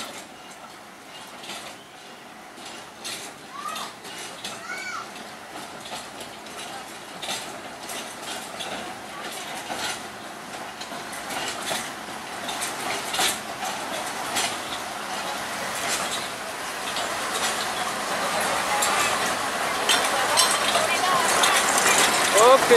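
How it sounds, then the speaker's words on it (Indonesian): A sugar mill lorry train from PG Jatiroto, hauled by a D5 locomotive toward PG Semboro, rolls along overgrown rails as a steady, rising rumble with faint metallic clinks, growing slowly louder as it approaches from a distance. "Ini dia kereta lori dari PG Jatiroto ke PG Semboro."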